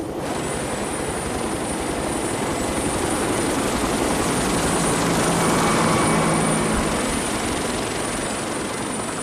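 A helicopter drones continuously overhead, a loud, even rotor and engine roar that swells slightly midway without pause.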